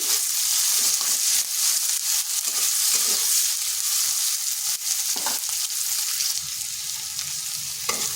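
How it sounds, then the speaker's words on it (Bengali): Long-sliced onions lightly frying in oil for a fish roe dish, a loud continuous hissing sizzle close up, broken by faint stirring scrapes, with no voices. "পেঁয়াজটাকে হালকা ভেজে নিচ্ছি"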